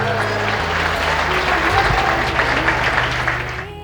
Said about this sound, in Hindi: माननीय स्वास्थ्य मंत्री श्री मंगल पांडे जी का जोरदार तालियां होनी चाहिए बच्चे